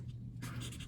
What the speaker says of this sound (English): I write it down on a Post-it note and I stick it to the page